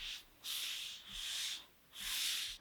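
Three slow strokes of sandpaper rubbing across a hard clay piece, close and soft, each a smooth raspy swish separated by brief pauses.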